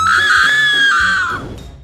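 A woman lets out one long, loud, high scream that holds steady and then trails off near the end, standing alone without talk.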